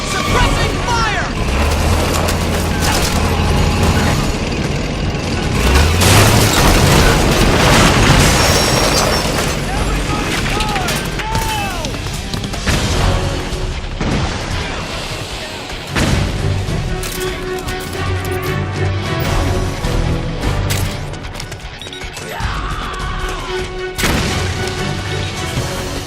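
Suppressing gunfire and explosions in Metal Gear Solid 4 keep up a loud, continuous din, with repeated booms and crashes throughout and voices shouting over the chaos.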